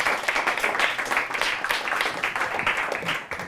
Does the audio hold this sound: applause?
yes